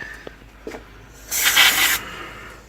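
A loud burst of carburetor cleaner spray on a Honda Izy mower hisses up close for just under a second, preceded by a few small clicks and taps.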